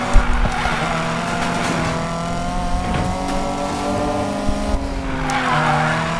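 A race car in Need for Speed Payback slides sideways with long, loud tire squeal over a droning engine, continuous and close for several seconds.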